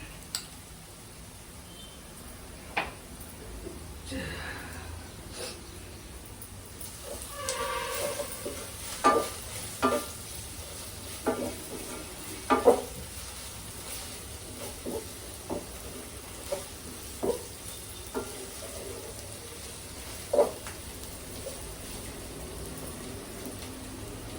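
Ginger garlic paste is added to onions frying in a pan for fish curry, a soft steady sizzle punctuated by a dozen or so light scraping and tapping stirs of the spoon.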